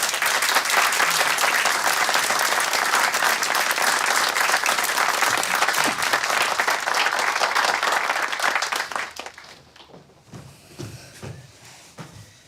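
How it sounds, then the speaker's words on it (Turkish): Loud, dense audience applause welcomes a performer onto a stage, steady for about nine seconds before thinning into a few scattered claps and murmurs. "Galip Derviş'i alkışlarınızla sahneye davet ediyorum"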